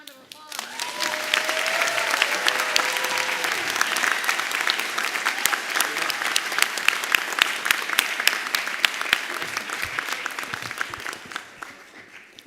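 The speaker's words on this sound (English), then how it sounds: "Let's give them all a round of applause." At a pharmacy school white coat ceremony, a large audience breaks into dense, sustained applause that swells quickly, holds steady for over ten seconds, then tapers off.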